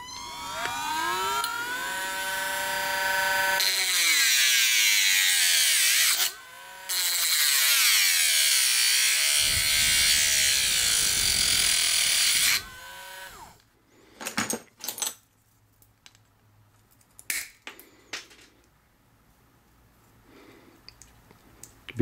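A power tool grinds and shapes a quahog shell, first in long, loud, whining stretches with a short gap between them, then in scattered short bursts separated by quiet.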